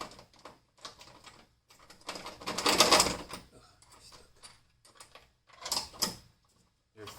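Wrench work tightening the bolts of rock sliders on a Jeep TJ: scattered close metallic clicks and clacks in short bursts, with a louder cluster of rattling ratchet-like strokes midway and another brief burst near the end.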